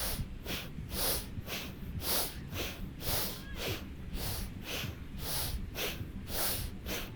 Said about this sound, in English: then we're going to do breath of fire with a spinal flexion